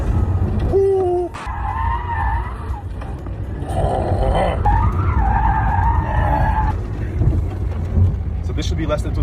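A 2,000 horsepower hypercar with a Venuum body kit launches hard under launch control, a loud close whine and roar with tyre noise building steadily, while excited voices shout and exclaim over it.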